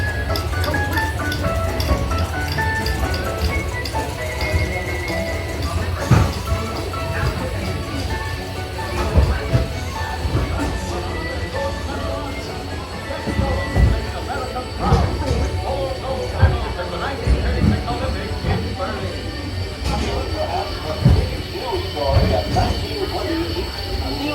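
A train rumbles along the tracks with rhythmic clacking and occasional metallic squeals, heard over music and voices in a Transcontinental Railroad scene of the Spaceship Earth ride at EPCOT.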